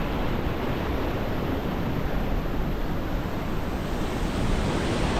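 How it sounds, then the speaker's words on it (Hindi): A mountain stream in Morocco's Atlas Mountains rushes close by, a loud continuous broadband roar of flowing water with no breaks and no voices. "पानी का प्रेशर आप चेक करें, कितना साफ़ पानी है माशाल्लाह"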